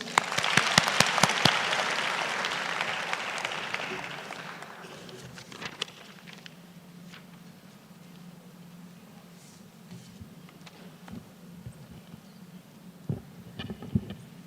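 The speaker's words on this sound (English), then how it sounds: "Round of applause," Applause from the audience at a tech skills graduation ceremony as a UNIDO representative is invited up, loud dense clapping for the first few seconds that fades into scattered claps, murmurs and room noise.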